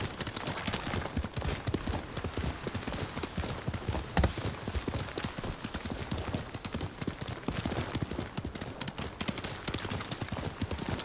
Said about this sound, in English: I like the way the horse rides in this game.